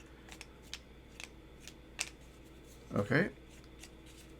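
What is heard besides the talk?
shuffling cardboard tiles of The Night Cage board game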